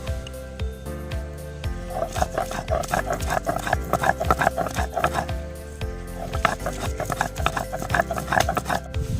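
Cashews are crushed on a stone shil-nora grinding slab, a close run of rhythmic grinding and knocking strokes that pause briefly and then resume, with no talk.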